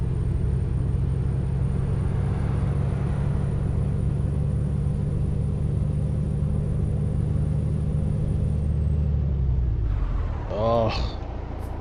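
A car braking hard to a stop at a traffic light, with a steady engine and road rumble winding down over several seconds into near quiet, then a brief rattling noise as the vehicle settles.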